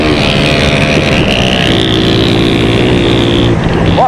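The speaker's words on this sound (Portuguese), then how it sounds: "Acelera bem, pai, acelera bem!" A vehicle's engine revs loudly and steadily while it pushes through mud, the pitch rising and holding close by throughout.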